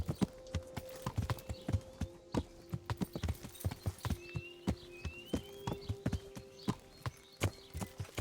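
In Kingdom Come: Deliverance, a horse's hooves clip-clop in a steady walking rhythm, close and clear, with faint chirps and low ambient hum beneath.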